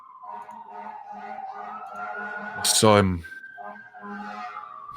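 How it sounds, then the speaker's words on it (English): Loud emergency vehicle sirens wail outside, with a swelling rise-and-fall tone and a sharp bright burst partway through, heard over people talking in a room. "we got some serious sirens"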